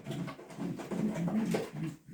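Soft, low racing pigeon cooing murmurs continuously, close and gentle, with a few rounded coo notes standing out.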